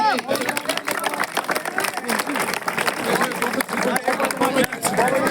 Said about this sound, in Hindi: जोरदार तालियों से भाई।